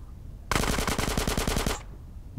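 Rapid automatic gunfire in the video game GTA San Andreas, a single sharp burst of about a dozen quick shots lasting just over a second, loud and close.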